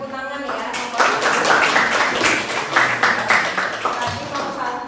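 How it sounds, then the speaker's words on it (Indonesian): A classroom group claps after finishing their presentation during a teaching practice session. The applause is dense, steady and moderately loud, with voices mixed underneath. "Ya, kasih tepuk tangan ya."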